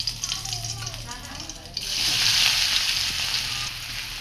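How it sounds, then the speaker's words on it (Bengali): Onion goes into hot oil on a homemade village stove. After a voice at the start, a loud, close sizzle suddenly bursts up and holds steady, then eases a little toward the end. "তেল হয়ে গেছে, একটু করে পেঁয়াজ দিয়ে দেবে।"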